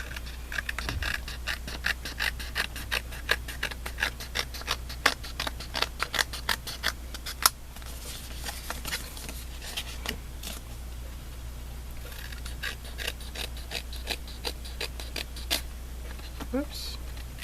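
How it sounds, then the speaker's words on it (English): Scissors trimming excess fabric from a scrap-quilting piece, a long series of small close snips over a steady low hum, with a voice talking at times. "So, just gonna cut the excess here."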